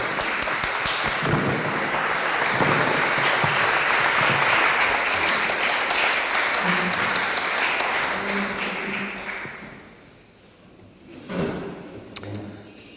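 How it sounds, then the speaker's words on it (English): Loud sustained applause from a crowd fills the room for several seconds, then fades out, leaving a few scattered claps and faint stirring. "Let's give him a round of applause."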